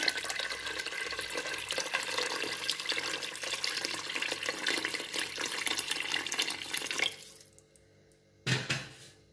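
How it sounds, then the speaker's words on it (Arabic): Water pours steadily into a cocotte cooking pot holding meat and smen for a Marrakech tangia. The flow runs continuously for about seven seconds, then stops, followed by a brief knock or splash. "وكنزيدو عليه الماء باش الكميه ديال الماء اللي غادي يطيب لينا فيها"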